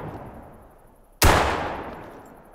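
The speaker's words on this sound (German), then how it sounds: "der zweite Schuss war ein bisschen daneben" A single sharp rifle shot fired while hunting geese in the video game theHunter: Call of the Wild, a sudden loud crack with a long echoing decay and no talk.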